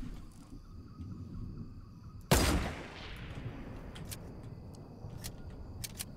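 A single loud sniper rifle shot rings out in a Fortnite solo battle royale match, a sharp crack with a decaying tail, followed by faint scattered game sounds.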